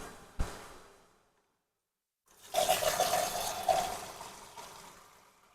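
Water is poured into a pot of potato curry with dumplings during cooking, a steady splashing, rushing pour lasting a few seconds after a short clunk and a brief pause, with no voices.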